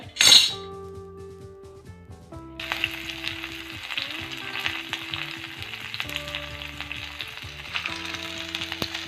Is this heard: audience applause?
no